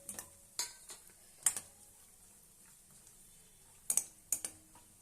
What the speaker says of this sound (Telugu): కొంచెం వేగిన తర్వాత కిస్మిస్ వేసుకుందాం